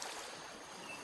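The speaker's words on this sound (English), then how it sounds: "I can hear the water." Water flows steadily outdoors in a quiet natural setting, a soft continuous trickling wash heard at low level with no voices.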